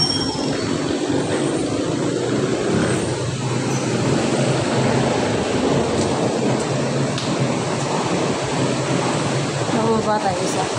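Heavy rain pours steadily outdoors, a dense, loud continuous wash with a low rumbling undertone throughout, and voices talk faintly beneath it.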